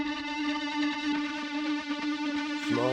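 A buzzy, heavily distorted synthesizer tone from a Roland GAIA 2 drones steadily, harmonically rich and gritty, then shifts pitch abruptly near the end.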